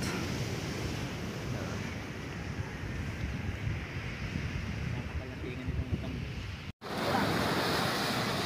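Ocean surf rolls continuously onto a crowded shore at a river mouth, a steady roar of water mixed with wind noise on the microphone, broken by a short dropout before resuming louder.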